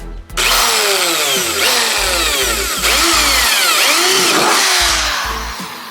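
Power drill boring a hole through the metal trunk lid of a Mazda Miata, the motor whining in short bursts that start, stop and restart, loud and close, with no talking.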